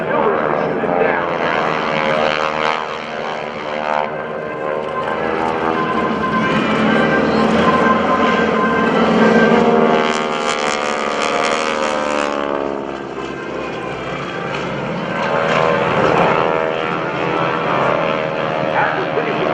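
GEICO Skytypers propeller aircraft maneuver at an Air National Guard open house airshow, their engines droning loud and continuous with rising and falling pitch as the planes pass, while a voice talks over the noise.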